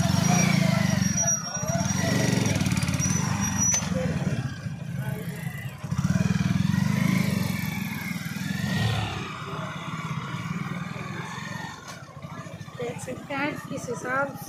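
Motorcycles pass on a road under construction, engines rumbling and revving up close with some clatter, while a voice talks over the traffic throughout.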